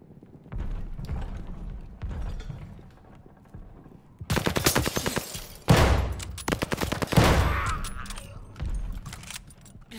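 Gunfire from a weapon in the video game Call of Duty Vanguard, rapid automatic bursts of sharp shots, close and loud, with a quieter rumbling stretch before the shooting starts.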